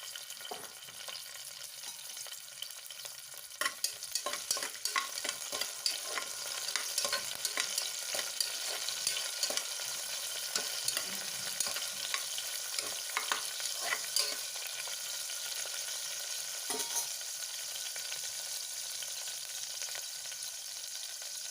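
Green chillies, then onions, frying in hot oil for a spicy mutton curry, with a continuous close crackling sizzle broken by irregular scraping stirs, no voices over it.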